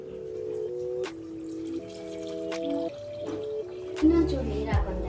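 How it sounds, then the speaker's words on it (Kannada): Water poured into a cooking pot on a stove turned down to simmer, while making bisi bele bath; a steady pour with some tonal ringing from the filling vessel, heard under continuous talking and ending in a louder splash. "ಇವಾಗ ನಾನು ನೀರು ಹಾಕೊಳ್ತಾ ಇದ್ದೀನಿ."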